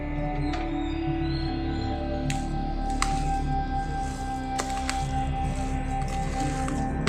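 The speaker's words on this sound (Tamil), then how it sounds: "நல்லா இந்த மாவை கலந்து விட்டுருக்கேன்" Masala vada batter is mixed by hand in a bowl, soft wet squishing and squelching against a steady low background hum, with a few sharp clicks scattered through.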